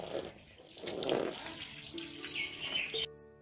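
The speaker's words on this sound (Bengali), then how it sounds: "মাছটাকে প্যাকেট থেকে বের করলাম করে ধুয়ে নিয়ে মাছের আঁশগুলোকে ছাড়িয়ে নিচ্ছি" Tap water runs steadily while a hilsa fish is washed under it in a sink. The splashing is moderate and continuous and cuts off abruptly near the end.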